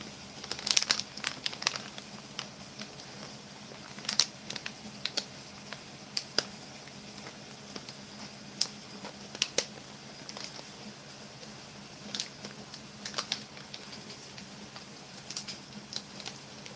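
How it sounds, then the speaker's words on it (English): Scissors cut open a sealed ration bag with faint, crisp crinkling plastic and scattered small snips and clicks spread across the stretch, fairly quiet and without speech. "I'm going to use my scissors to cut right underneath this seal."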